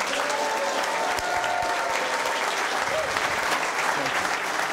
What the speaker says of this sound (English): give a round of applause and a rousing welcome to the star of the show